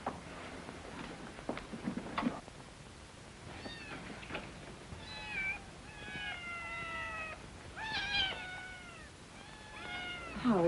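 Several cats meow repeatedly in a room, rising and falling cries coming one after another at close range, mixed with a few soft thumps and taps.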